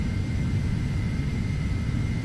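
Steady jet engine roar of an Embraer Phenom 300 climbing out with flaps retracting in the Prepar3d flight simulator, a constant broadband rumble with no talking.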